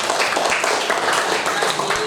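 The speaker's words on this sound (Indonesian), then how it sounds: "Kita kasih tepuk tangan dulu yuk." A classroom of children clapping in a dense, steady burst of applause, loud and close throughout, with voices mixed in.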